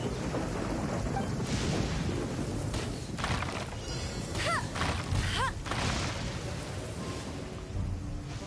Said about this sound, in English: You saw the thunder roll.